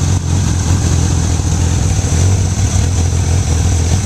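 A Honda Goldwing motorcycle engine converted to a single carburetor runs at a steady, loud idle, its even throbbing rumble continuing without a break.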